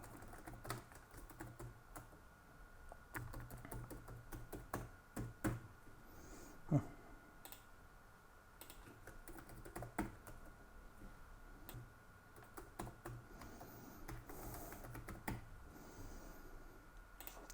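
Keystrokes on a computer keyboard while entering details into an e-invoice form, a steady run of faint, quick clicks with small pauses, recorded close and quiet with no talking.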